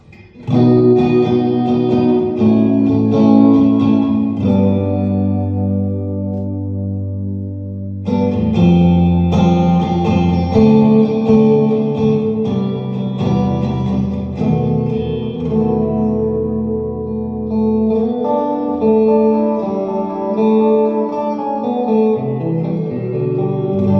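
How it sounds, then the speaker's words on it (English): Electric guitar played through an Electro-Harmonix Oceans 3-Verb pedal with the room reverb effect turned up: loud sustained chords and ringing notes washed in thick ambient reverb, a short drop at around eight seconds, then more layered notes, with no talking. "room reverb, turning in the effect up"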